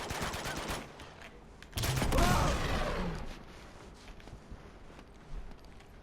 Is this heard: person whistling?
no